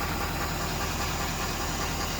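A 2018 Ford F350 Lariat diesel with a straight pipe exhaust and tuner idles close by, a dense, steady rumble with a constant knocking texture and no break.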